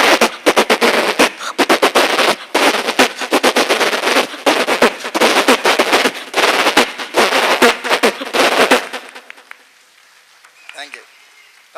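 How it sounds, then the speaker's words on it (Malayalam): A string of firecrackers explodes in a long rapid crackling burst, loud and close, sharp irregular pops for about nine seconds before dying away into quiet. "മാലപ്പടക്കത്തിന് തീ കൊളുത്താൻ പോവാ."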